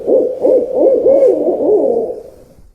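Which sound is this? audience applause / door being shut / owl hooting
owl hooting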